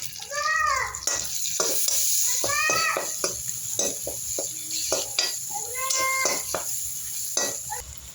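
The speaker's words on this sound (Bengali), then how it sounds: "গন্ধ চলে গেছে, এবার টমেটো দিয়ে দেবো।" Tomatoes go into ginger-garlic in a hot pan, producing a steady moderate sizzle with stirring scrapes and clinks, broken now and then by brief high, voice-like tonal chirps in the background.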